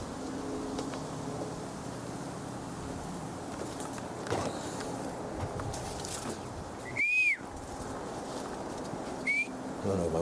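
A person whistles outdoors in the Florida Keys, two short rising whistles, the first clearer and the second briefer, amid faint ambient rustle and distant background noise.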